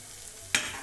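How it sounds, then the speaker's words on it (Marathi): Mashed roasted eggplant hits a hot pan and bursts into a sudden close sizzle after a quiet moment, a sharp hiss that rises at once and then settles into steady frying. "आता याच्यात टाकायचं आपल्याला मॅश केलेले वांग्याचं भरीत."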